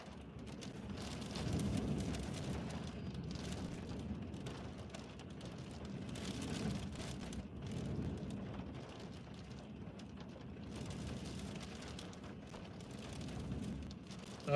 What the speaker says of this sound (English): Definitely getting rougher, wind's getting rougher, rain's getting heavier.